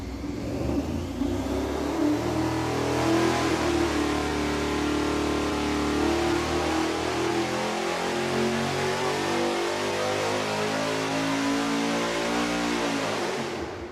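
Engine on a dyno fitted with a MagnaFlow muffler on the header and Hooker quad mufflers out back, revving up to a sustained loud full-throttle roar that holds steadily throughout and then cuts off, with no voices.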